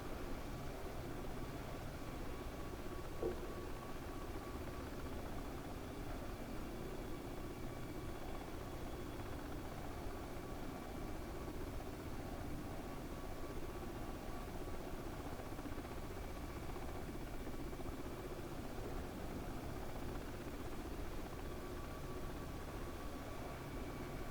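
Steady, droning rotor and engine noise from inside a UH-60 Black Hawk helicopter in flight over a lake, constant and unbroken throughout.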